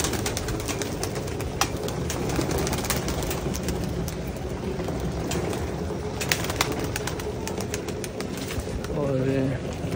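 Pigeons cooing and shuffling around a feeding area in cool rainy weather, a steady busy wash of bird sounds and flutters with occasional sharper taps, and someone talking over it.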